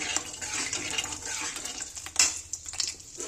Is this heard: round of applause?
no